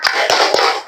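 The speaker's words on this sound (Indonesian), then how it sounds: "Kita lakukan dulu tepuk semangat sebelum belajar." A classroom of students does a rhythmic spirit clap: a quick burst of three sharp, close, loud claps packed into under a second.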